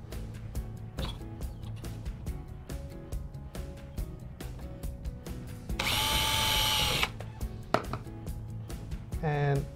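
A power drill drives a screw into a front door to fit a draught excluder. Short, close whirring bursts of the drill come with tapping and handling knocks, then one longer, louder run of the drill near the end.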